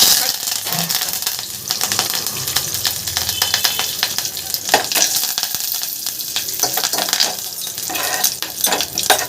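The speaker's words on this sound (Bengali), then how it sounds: "গরম তেলটার মধ্যে কারি পাতাটা দিয়ে দিলাম দেখুন খুব সুন্দর ভাজা ভাজা হয়ে গেছে" Curry leaves sizzle and crackle in hot oil alongside spluttered tempering spices and dried red chillies after the gas is switched off, a steady, fairly loud frying hiss with sharp pops and a few utensil clinks.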